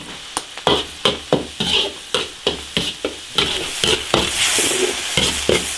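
A spatula scrapes briskly through chili sauce sizzling in an iron wok, making rhythmic, close strokes about every half second over a steady hiss of frying oil, with no talking.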